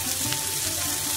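Bay leaves dropped into hot oil for a Bengali pitha recipe give a steady, close sizzle and crackle that fills the short moment without pause.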